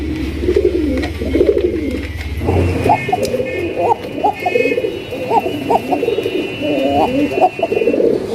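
Pigeons for sale coo repeatedly at close range, soft throaty bursts in a steady rhythm after a brief low hum at the start, with a faint tonal whine in the background.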